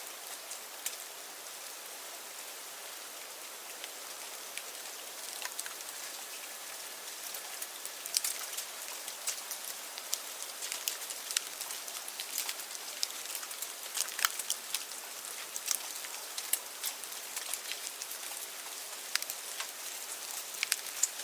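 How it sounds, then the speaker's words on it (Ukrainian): Steady rain falls with a soft, even hiss and scattered droplet patter, fairly quiet and continuous throughout. "Це справжній дощик."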